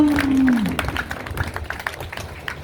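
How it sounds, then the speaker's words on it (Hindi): An audience at a Hindu Bhagwat katha religious discourse claps to welcome Meena Sahab. A brief sustained vocal tone opens, then scattered, fluttering applause of moderate loudness carries on from a short distance. "मीना साहब जी भी जोरदार ताली के साथ में स्वागत"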